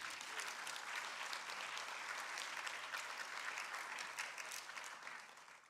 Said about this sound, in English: A big round of applause one more time.